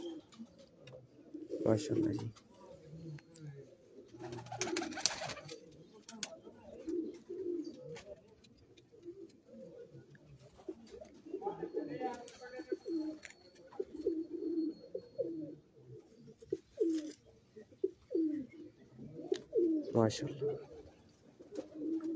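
Lakha pigeons and a Teddy hen coo in a loft, soft throaty calls repeating under a voice speaking throughout.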